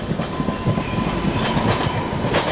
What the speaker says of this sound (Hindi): ये नहीं है, ये गुड्स ट्रेन है